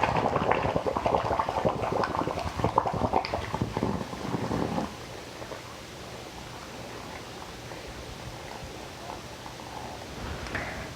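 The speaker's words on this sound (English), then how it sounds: "And so I'm just gonna pour my vinegar mixture in here." Hot vinegar mixture is poured into a jar of cucumbers for refrigerator pickles, a steady splashing, gurgling pour for about five seconds that then gives way to quiet room tone.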